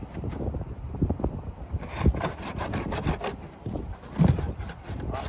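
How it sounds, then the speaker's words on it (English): Coarse, uneven rasping of a machete scraping dry laminated plywood off a trailer roof outdoors, in repeated gritty strokes with light wind noise. "We've used the machete to scrape off all this dry laminated plywood."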